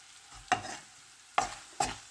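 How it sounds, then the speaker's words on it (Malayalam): Long beans with salt and turmeric being stirred in a pan for a Kerala-style mezhukkupuratti, three distinct scraping strokes of the spoon at a steady pace over a quiet, faint sizzle. "ഇനി നമുക്കിതിൻ്റെ പച്ചമണം മാറുന്ന വരെ ഇളക്കി കൊടുക്കാം"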